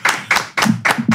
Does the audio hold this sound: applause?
yes